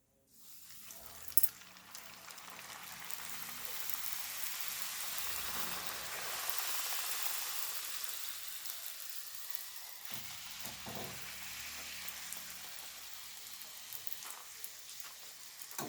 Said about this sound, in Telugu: ఇలా కాల్చుకోవాలి నూనె బాగా వేడి ఉండాలి